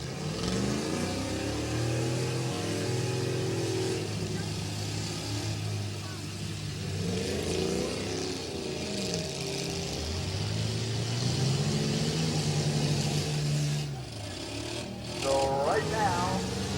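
Demolition derby cars at a county fair rev their engines in rising and falling surges, with a loud announcer talking over the motor noise and crowd throughout.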